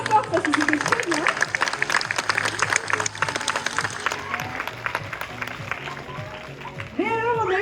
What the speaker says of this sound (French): Alors on peut déjà l'applaudir bien fort parce que c'était très bien.